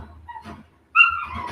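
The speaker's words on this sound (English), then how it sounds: "Sorry, guys, for the dog." A dog gives a short, loud high-pitched yelp or whine that trails off into a whimper, following a quiet stretch of faint indoor background noise.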